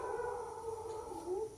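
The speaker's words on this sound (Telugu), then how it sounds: "ఎందుకు అరుస్తుంది కుక్క?" A dog howls in one long, steady, wavering note that carries on for the whole moment, loud and close, with no voices over it.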